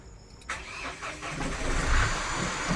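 A Mahindra Bolero diesel engine cranks on the starter and catches, rising quickly into a rough, steady idle, recorded up close.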